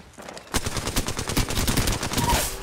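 A charge rifle fires in a video game, a fast series of sharp repeated bursts beginning abruptly after a short quiet lead-in and continuing loudly to the end.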